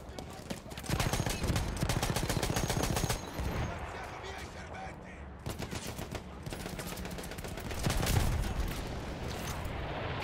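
Repeated bursts of rapid gunfire in the World War I shooter Battlefield 1, loud and close, with automatic volleys alternating with shorter pauses throughout.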